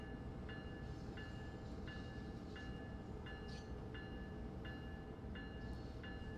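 Amtrak train running in the simulator game Train Sim World: a steady low rumble of rolling stock with a rhythmic chime-like tone repeating about every second over it, continuous and without talking.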